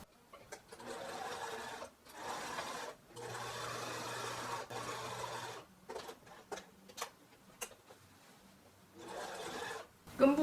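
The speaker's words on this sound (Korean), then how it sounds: "이렇게 원단을 덮어서 같이 박도록 하겠습니다" Sewing machine stitching fabric laid over a strap for a reversible skirt, running in several steady bursts with short pauses between them, close and moderately loud, with a faint low hum at times.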